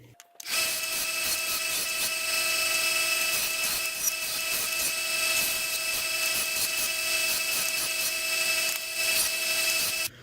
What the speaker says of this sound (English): sand it down just until it reaches the metal